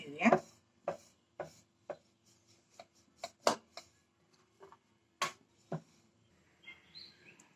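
Chapati dough being rolled out for a fried cheese veg roll, heard as a series of sharp, irregular knocks and taps from the rolling pin against the board, close by, separated by quiet gaps.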